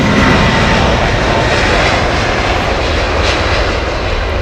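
Loud, steady roar of Boeing 767 jet engines at London Heathrow Airport, a dense broadband rumble filling the whole clip without a break, close and continuous, with no talk over it.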